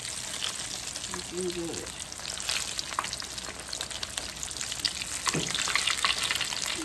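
Zucchini crackles and sizzles steadily in hot frying oil as the pieces are turned, a close, continuous hiss with sharp pops, while a voice briefly speaks over it.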